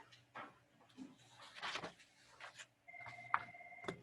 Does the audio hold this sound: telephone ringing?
yes